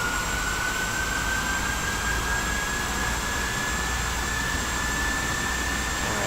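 Jet engine of a Boeing 737-400 spooling up in a flight simulator, a steady loud roar with a high whine slowly rising in pitch, continuous throughout.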